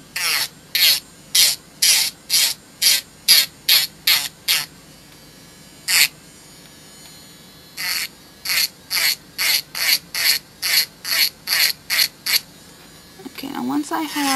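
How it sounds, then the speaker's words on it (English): An electric nail drill filing away cuticle gives a rapid series of short, regular bursts, each a brief high-pitched whir with gaps between, and a pause midway before the strokes resume, close and fairly loud. "once I have the cuticle drilled out here"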